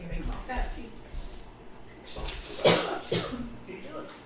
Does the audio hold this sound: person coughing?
yes